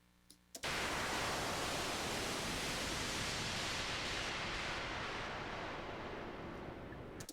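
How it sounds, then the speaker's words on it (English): Dense white noise swells in abruptly and holds as a steady broadband hiss, shaped with delay, reverb, panning and a filter cutoff sweep, slowly dimming toward the end with no voices. "we've just taken a white noise going down to a panning and automating that envelope for the cutoff"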